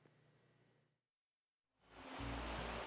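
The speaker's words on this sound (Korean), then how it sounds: "계곡에 물 흐르는 소리가 시원하게 느껴집니다" Mountain valley stream in spring near tea fields in Hadong, South Korea, its water flowing as a steady broadband rush that fades out, falls silent briefly, then returns louder and close.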